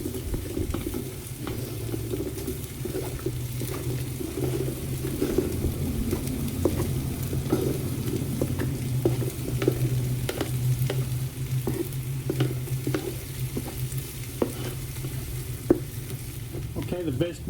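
Onions fry in hot oil on a Camp Chef grill while a beef stew is prepared, giving a steady, dense sizzle with occasional stirring scrapes throughout, close and continuous with no talking.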